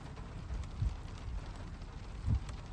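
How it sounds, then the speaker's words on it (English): Steady rain falls outdoors near a slot canyon, a continuous low hiss with wind buffeting the microphone and a couple of brief louder gusts. "It is now raining."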